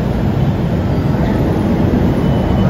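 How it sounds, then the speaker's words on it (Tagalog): MRT train arriving at a station platform on EDSA, a steady loud low rumble of rail cars and wheels that holds constant throughout with no talk. "Ay, may dumating ng MRT."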